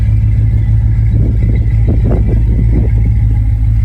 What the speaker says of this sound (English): Good sounding exhaust.